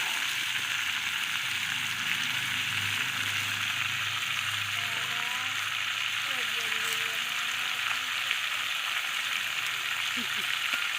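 Potatoes for a meat curry frying in a pan, a steady broadband sizzle running throughout at moderate level with faint voices in the background.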